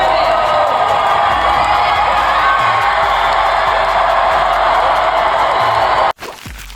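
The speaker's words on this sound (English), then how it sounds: "he received a standing ovation from the crowd" A large crowd at Comic-Con Experience in Brazil roars, whoops and cheers in a loud, sustained ovation for Keanu Reeves, ending abruptly near the close.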